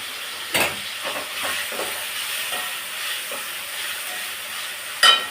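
Coriander leaves sautéed and stirred in a pan for chutney, a soft steady sizzle with occasional scraping stirs, two sharper clanks standing out.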